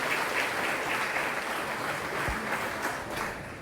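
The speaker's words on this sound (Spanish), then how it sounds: "Así que un aplauso de honra, Pastor Ricardo, es una honra tenerle." A congregation at an international missions congress claps steadily for a welcomed guest pastor, a dense, even wash of applause that fills the whole room.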